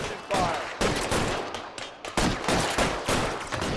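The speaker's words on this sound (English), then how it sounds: "I'll lay down some suppression fire." Rapid bursts of suppression gunfire in L.A. Noire crack in a steady, repeating rhythm of loud shots, some overlapping, close and sharp throughout with no voices.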